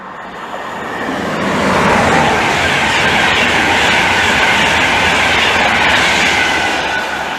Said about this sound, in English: 1122 London North Eastern Railway service from London King's Cross to Edinburgh